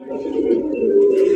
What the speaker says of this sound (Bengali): দেখেন চমৎকার আরো এক জোড়া কালারিং রাসগোল্লা কবুতর